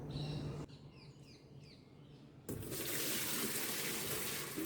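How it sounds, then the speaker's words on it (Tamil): Water gushes steadily into a washing machine drum during a cleaning session. It starts abruptly midway and continues loud and close after a quieter stretch with faint bird chirps. "இப்போ இதில் தண்ணி ஃபில் பண்ணிக்கலாம்."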